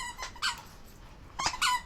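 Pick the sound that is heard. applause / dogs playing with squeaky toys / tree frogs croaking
dogs playing with squeaky toys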